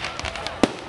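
July 4th Independence Day fireworks burst in a noisy outdoor scene, with one sharper pop standing out among ongoing crackle and rumble at middle distance.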